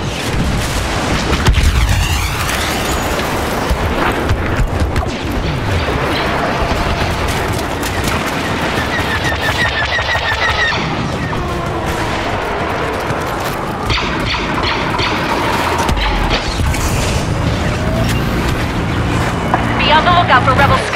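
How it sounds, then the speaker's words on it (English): Deep booms and blasts roll through a Star Wars Battlefront battle as Y-wing bombers attack, with layered explosions, engine roar and gunfire filling the scene almost without pause, and voices calling out over the din. "Y-wing bomber attack."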